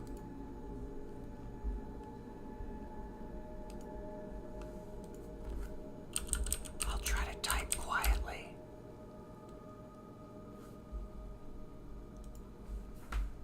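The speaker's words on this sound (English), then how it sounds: "It's hard to type quietly on this keyboard." A computer keyboard typed on at night during an astronomy livestream, a quick cluster of soft clicking keystrokes in the middle, with a few scattered taps before and after over a constant low hum.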